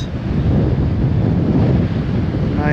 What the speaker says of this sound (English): Whew, it is windy out here.